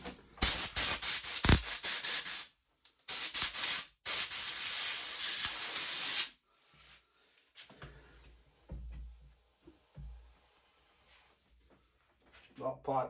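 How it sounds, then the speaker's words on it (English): An air compressor blows air over pit bike parts in loud hissing blasts, stopping and starting several times, before quieter handling noises follow. "Get that compressor on there."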